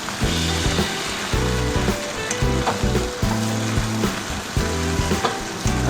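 Beef stir fry sizzles loudly in a pan, with rhythmic bursts of stirring and scraping repeating about once a second over a constant frying hiss.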